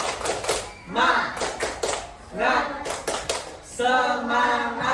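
Pupils in an Indonesian Islamic religious-education classroom perform a rhythmic clap chant, sharp patterned bursts of group clapping alternating with children's voices chanting together, close and lively.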